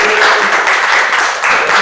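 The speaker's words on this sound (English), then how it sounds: "You can clap." Steady clapping from an audience at a community talk on the history of the Memorial Day parade in Cedarville, dense and continuous with a short dip near the end.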